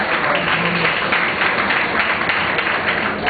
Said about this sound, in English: Everyone give Jian Deleon a big round of applause.